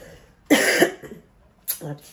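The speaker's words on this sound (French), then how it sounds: "c'est un poil chiant parce que j'arrête pas de tousser" Two harsh coughs close to the mic, the first longer and raspy, the second shorter after a brief pause.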